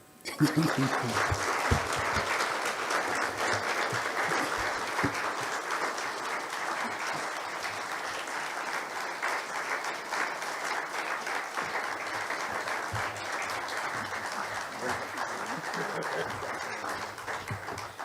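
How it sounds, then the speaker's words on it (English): Sustained applause from a large audience, steady and dense clapping filling the whole stretch, with faint voices mixed in. "let's clap for her until she's here"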